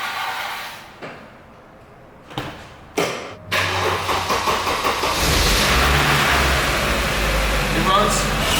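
An Audi project car left sitting too long cranks at about three seconds, catches and settles into a loud, steady idle with small rises in revs, close up and alone.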